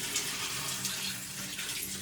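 A bathtub tap runs steadily, water splashing into the tub for a dog's bath, a continuous hissing pour with no talking.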